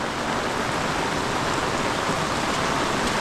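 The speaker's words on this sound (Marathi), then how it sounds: "कारण आता पाऊस बघा कसला पडतोय" Heavy monsoon rain pours down on a Konkan village near Khed, Ratnagiri, a dense, even roar of drops hitting surfaces with no pauses and no voices.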